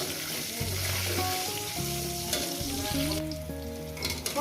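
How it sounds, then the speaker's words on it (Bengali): Thick-cut potato pieces dusted with turmeric fry in oil with a constant crackling hiss, while a melodic tune plays steadily underneath. "আলুটাকে ভেজে নেবো, যেহেতু একটু মোটা মোটা করে কেটেছি"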